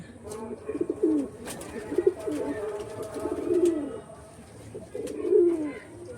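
Several pigeons from a collection coo in soft, repeated low bursts, close by, with a few rustles and light noises between calls.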